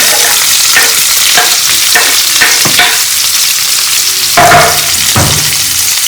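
Onion tossed in with crispy fried garlic in hot oil, a loud, dense, continuous sizzle close by, punctuated by repeated spatula stirs and a heavier scrape near the end, with no talking.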